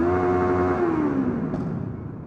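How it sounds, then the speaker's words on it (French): A motorcycle engine revs up close and loud, holding a high steady buzzing note as if bouncing off the rev limiter, then the pitch sags and the sound fades as the revs drop. "je vais vous taper un petit rupteur, histoire que vous entendiez ce que ça donne"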